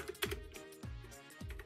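Keys on a computer keyboard click in a few quick, irregular taps, close but quiet, with short pauses between bursts.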